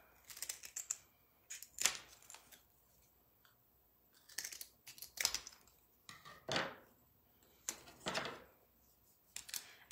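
Scissors snipping through thin popsicle-stick wood boards for a small craft boat, a series of short, crisp cuts in uneven bursts, close and fairly quiet with no talking.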